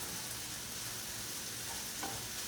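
Garlic fries and gets stirred in a pan on a stovetop while pasta is being made, a steady soft sizzle at low volume with faint scraping and no talking.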